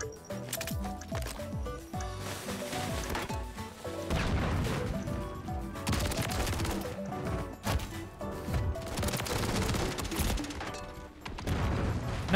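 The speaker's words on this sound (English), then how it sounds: "Nope, my own gun shot me." Video game gunfire crashes through a dense, loud mix of in-game effects, with repeated sharp impacts and bursts spread across the whole stretch.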